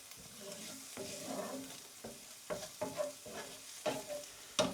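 Garlic and shallots sizzling in a pan with a soft steady hiss, broken by several close scraping stirs that grow more frequent toward the end.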